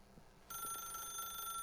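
A telephone rings in The Stanley Parable video game, a steady electronic ring starting abruptly after a brief quiet moment and continuing loud and unbroken to the end.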